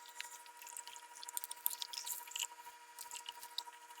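Water splashes and drips while a scrubbed sediment filter housing from a Culligan whole-house system is rinsed out, producing soft irregular squishy trickles and spatters close by, with no talking.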